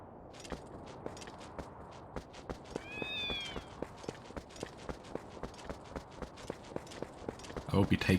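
A cat meows once in The Legend of Zelda: Twilight Princess, a short rising call over a steady run of evenly spaced game footsteps, with a louder clatter at the very end.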